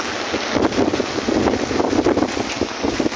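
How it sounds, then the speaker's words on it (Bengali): Strong wind gusting through heavy rain in Dhaka, a steady loud broadband roar with buffeting surges close to the microphone throughout, no voices. "অনেক বাতাস"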